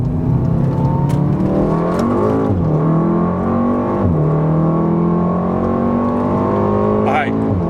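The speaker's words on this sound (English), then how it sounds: "we're just gonna do a first gear roll" A tuned Mk7 Golf R pulls hard through a first gear roll, its engine droning and climbing steadily with brief dips at shifts, loud and close from inside the car, with someone speaking faintly over it.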